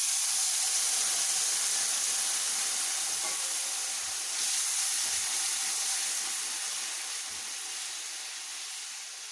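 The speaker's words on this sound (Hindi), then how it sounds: "अब हम इसमें पानी डाल देंगे।" Water poured into roasting semolina with sugar in a hot pan gives a loud, steady sizzle and steam hiss that slowly fades over several seconds, with no talking.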